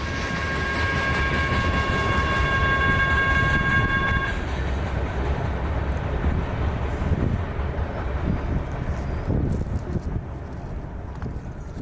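A CSX coal train bound for a Tennessee Valley Authority fossil plant rolls past with a continuous loud rumble of wagons, a horn sounding steadily for the first four seconds before fading.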